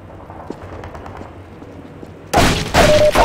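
Loud sniper gunfire from Half-Life 2 cracks in suddenly after a stretch of quiet ambience, with two or three heavy shots and their echoing tails packed into the last second.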